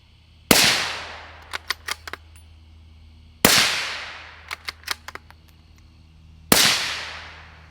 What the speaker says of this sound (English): We'll put 3 rounds down range to see if it's something that I can shoot without ears on with the Atom Lite.